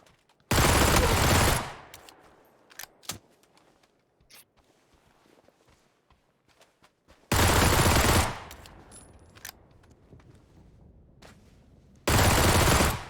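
In PUBG, three loud, close bursts of automatic gunfire, each about a second long, separated by quiet stretches with faint clicks and footsteps.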